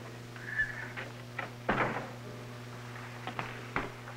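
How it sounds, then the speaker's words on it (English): A door in a room of a 1953 television drama is pushed shut with one solid thud near the middle, framed by a few lighter knocks and clicks over a faint steady hum. "shut the door"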